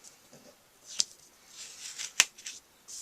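Scissors snip and trim a paper stencil piece, close by, with two sharp cuts and quieter rustling and sliding of paper between them.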